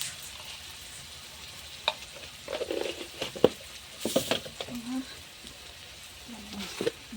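Chopped onion fried until reddish, with turmeric and chili powder added, sizzles quietly in a pan amid scattered stirring scrapes and clicks, close but fairly faint.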